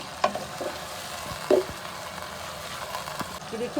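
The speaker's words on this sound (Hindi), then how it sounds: "कीमे को फ्राई कर लेते हैं 1 से 2 मिनट" Beef keema, minced meat, frying in a pan for a dhaba-style keema masala, a soft steady sizzle broken by a few sharp clinks and scrapes of stirring, moderately quiet.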